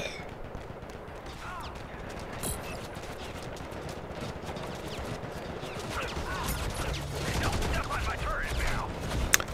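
Gunfire in the mobile shooter Modern Combat Versus, rapid bursts of shots and clatter under game effects, growing louder toward the end.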